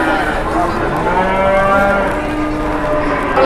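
A Geringan cow at a cattle market gives a loud, long, close moo that fills the moment, with a steady drawn-out tone and faint crowd noise beneath.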